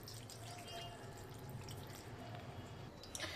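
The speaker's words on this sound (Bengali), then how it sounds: "এবার এটাকে আমি অল্প জল দিয়ে ভিজিয়ে রাখবো।" Water poured over about 250 grams of tamarind to soak it for a sweet pickle, a steady low trickling and splashing in a kitchen bowl lasting a few seconds, with a brief brighter splash near the end.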